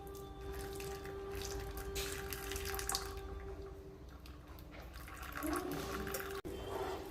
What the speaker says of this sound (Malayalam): നന്നായി തിളയ്ക്കുന്നുണ്ട്.